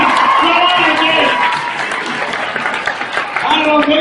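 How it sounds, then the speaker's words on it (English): Crowd applause and cheering rise at an outdoor tough truck event, a loud rolling mass of clapping and shouts with an announcer's voice carrying over it. "Hey, give a round of applause."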